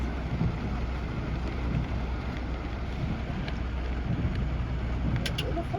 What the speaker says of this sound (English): I didn't know that it was supposed to rain.